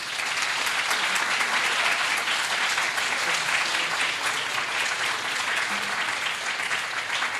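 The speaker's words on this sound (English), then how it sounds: "I would ask you all to give the highly commended a huge round of applause." Steady, dense audience applause at an award ceremony for the highly commended entrants, continuous clapping from a crowd lasting about seven seconds with no talk.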